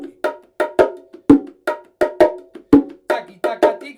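A hand drum is struck in a fast steady rhythm, sharp high slaps alternating with softer ghost notes, about a dozen close, dry hits with quick decays and no talking.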